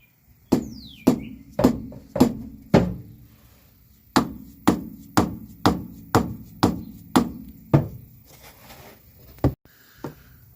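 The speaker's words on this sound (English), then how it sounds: "he's the one having to hammer a screwdriver into there to break the seal." A hammer repeatedly strikes a screwdriver driven into a Ford 8.8 rear axle seal, a run of sharp metallic blows in two bursts of about five and seven evenly spaced hits, close and loud with no talk.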